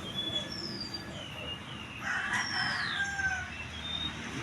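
A pangati junglefowl crows and clucks in the field during a hunt, its calls ringing out clearly at mid distance over a faint background hiss, with a couple of separate calls and no talking.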